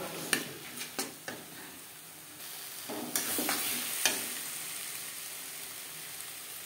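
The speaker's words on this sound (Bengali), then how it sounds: "লবণ হলুদ মশলার সাথে বেশ ভালো করে মিক্স করে দেব।" A spoon stirs spices with salt and turmeric in a frying pan for Moghlai paratha, with a few sharp scrapes and clinks against the pan over a soft, quiet sizzle.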